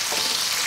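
Food fries gently in a pan over a wood-fired stove, a continuous soft sizzle at low volume with no talking.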